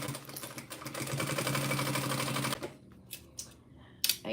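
A sewing machine stitches a cork tote with a 3 stitch length and quarter-inch seam allowance, running in a steady buzzing whir for about two and a half seconds before stopping, followed by a few soft clicks and handling sounds.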